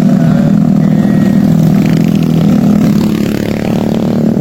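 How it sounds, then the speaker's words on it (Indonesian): Off-road mountain motorcycles on a track in a hilly forest village rev loudly and continuously, the engine roar steady and close throughout with some clatter. "Nah, ini ada sepeda motor."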